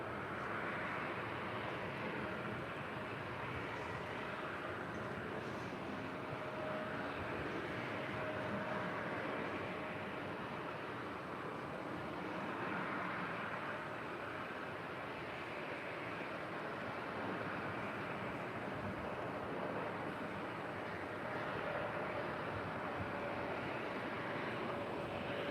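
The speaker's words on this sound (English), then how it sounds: "This is United Express Flight 5566 coming in from Arcata." A United Express airliner arriving at LAX on a flight in from Arcata, heard as a steady, broad jet roar that holds for the whole stretch, fairly distant and even with no voices over it.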